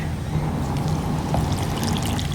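Filtered water pouring steadily into a jar of salted vegetables for a raw pickle recipe, a continuous close splashing and trickling that runs unbroken and alone.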